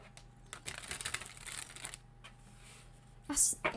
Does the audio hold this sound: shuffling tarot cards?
yes